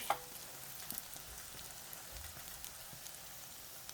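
Flour-coated dasima kelp pan-frying over medium heat gives off a soft, steady sizzle with faint crackles, quiet and continuous with no talking.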